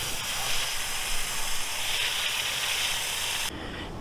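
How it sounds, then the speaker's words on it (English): A garden hose sprays water onto the O-ring of an AquaStar pipeline filter, producing a constant, loud hissing wash that runs unbroken and then drops off abruptly near the end. "And I like hosing off the O-ring before I lube it up."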